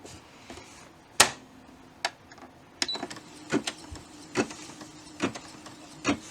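Embroidery machine stitching a bean-stitch border around an ornament design, giving soft irregular clicks and taps against a low steady motor hum, fairly quiet and alone.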